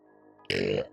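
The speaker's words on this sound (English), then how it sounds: "I have to burp." A single short, loud burp erupts from a person after a quiet moment, a brief guttural croak with no talking around it.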